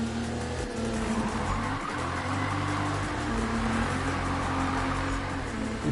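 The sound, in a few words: car drifting with tire squeal in a PS4 racing game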